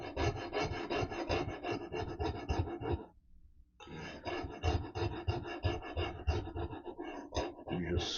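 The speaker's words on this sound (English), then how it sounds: "you just scrub away, scrub that scrape that rust off so the flaky bits can come off" Oiled copper pipe scrubbing rust off the steel of a Glenfield/Marlin Model 60 rifle, a steady rasping back-and-forth rub up close, pausing briefly midway before continuing.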